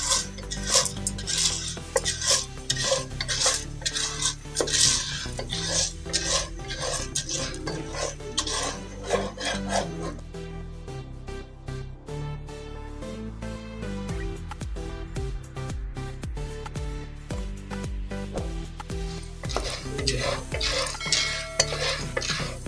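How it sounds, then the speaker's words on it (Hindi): A spoon stirs corn kernels in a metal pot for stovetop popcorn, rapid rattling and scraping strokes in bursts, close and fairly loud, no speech. "इसमें दाने ऐड कर लेंगे मकई के और इसमें चम्मच इसको मिक्स कर लेंगे और चम्मच हिलाते रहेंगे"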